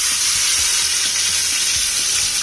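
Potatoes fry in hot oil with mustard seeds and crushed tomato in a pan on the stove, giving a loud, steady, close sizzle with faint stirring and no voices.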